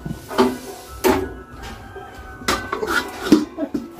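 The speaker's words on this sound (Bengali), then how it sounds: "ঢাকা লাগিয়ে দিচ্ছি।" A lid is set onto a cooking pot of boiling potatoes in a home kitchen, giving several sharp metallic clanks and knocks spread over a few seconds, fairly close, with faint voices in the background.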